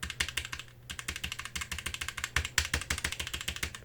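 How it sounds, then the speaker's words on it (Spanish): Fingers type fast, hard strokes on a Moto Speed mechanical keyboard, a close, rapid run of sharp clacky keypresses with brief pauses, and no talking. "Este es el sonido del Moto Speed."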